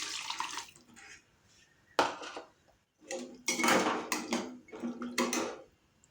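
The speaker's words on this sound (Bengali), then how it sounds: "এর মধ্যে আমি একটু জল দিয়ে দিচ্ছি।" Water poured into a pot of green mango stew in bursts, with splashing and clinks of a metal pot close by, separated by short quiet gaps.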